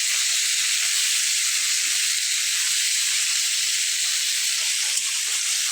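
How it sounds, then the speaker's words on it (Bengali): Onion sizzling as it fries in a pan for a Bangladeshi bottle gourd and fish curry, a steady bright hiss that carries on unbroken for several seconds with no voices. "তো এখন আমি পেঁয়াজটা লাল করে ভেজে নিব।"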